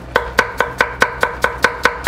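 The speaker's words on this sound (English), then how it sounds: "here I'm going to show you an easy way of chopping a carrot" A knife chops through a carrot on a cutting board while stir-fry ingredients are prepared, nine crisp, evenly spaced knocks in a steady rhythm, close and clear with no talking.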